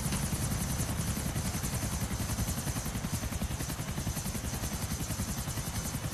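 A helicopter in Grand Theft Auto IV whirs with a steady, loud rotor chop and a dense engine drone that fills the whole stretch without a break.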